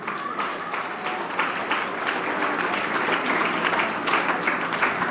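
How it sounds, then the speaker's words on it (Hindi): Steady applause from a school audience welcoming the head teacher at a school function, dense continuous clapping filling the hall at an even level throughout. "तालियां बजाकर स्वागत करें।"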